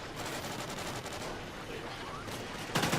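AK-12 rifle fire in a video game, rapid continuous shooting heard loud and dense throughout, ending in a sharper burst.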